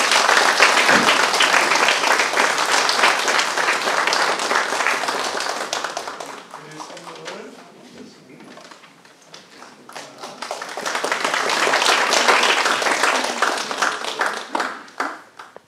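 A church congregation at an ordination service applauds loudly, the clapping dense and sustained, easing off briefly in the middle before swelling again and tapering at the end.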